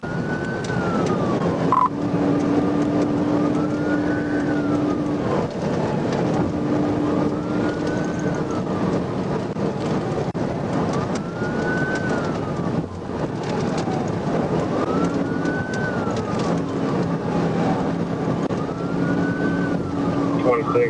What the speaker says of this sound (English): He activated his lights and siren and initiated the chase.